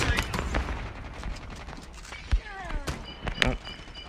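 An NA-45 sniper rifle fires in Call of Duty Mobile, sharp gunshots and impacts cracking among game effects and sporadic clatter, with a voice talking throughout.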